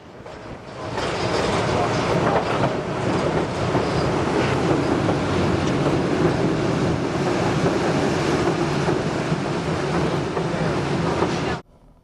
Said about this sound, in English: what's the name of this train? The skunk train, because it's stinky.